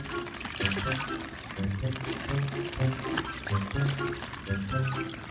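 Water splashes and patters continuously as a dog plays excitedly in a rain puddle, close and steady, mixed with voices and excited shouting.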